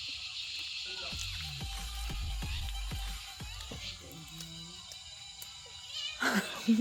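A house cat meows repeatedly in a home kitchen, a series of short near cries with brief gaps, followed by faint background sounds and a louder clatter near the end.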